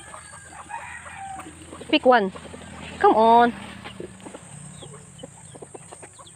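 Chickens cluck and squawk in two loud bursts close by, with a person speaking briefly amid quieter background sounds.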